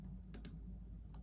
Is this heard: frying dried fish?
no